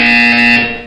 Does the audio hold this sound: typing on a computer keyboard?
no